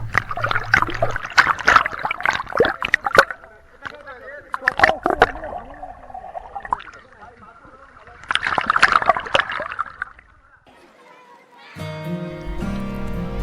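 Water splashes and sloshes as people play football in a cold outdoor resort swimming pool, bursts of splashing coming and going between quieter stretches, with voices talking over the play and music rising near the end.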